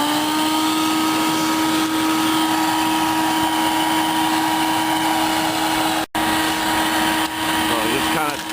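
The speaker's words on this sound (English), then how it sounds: "I just turned the vacuum on." A vacuum cleaner runs loud and steady while cleaning out a pellet stove chimney, its constant motor whine broken by one brief dropout near the end, with a person talking over it.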